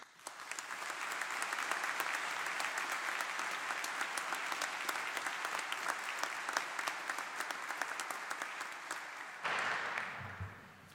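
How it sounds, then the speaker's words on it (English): A large audience at a University of Illinois doctoral hooding ceremony breaks into sustained applause, a thick even roar of clapping that holds for about nine seconds before cutting off abruptly into a quieter room. "Let's give a round of applause to all of those who have been part of this"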